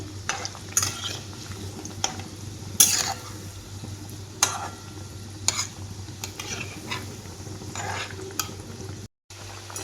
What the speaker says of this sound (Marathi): तेलामध्ये मी ह्या वड्या टाकून घेतलेल्या आहेत आणि मस्त अशा आहे ना खरपूस सोनेरी कलर येईपर्यंत मी ह्या वड्या तळून घेणार आहेत